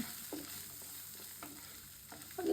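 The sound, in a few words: potatoes frying in a pan with salt and turmeric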